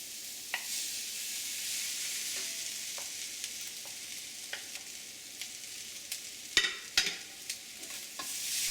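Rice being stir-fried with spices in a pan for Bengali fried rice, giving a steady soft sizzle with scattered light scraping and stirring knocks and a louder clatter of strokes near the end.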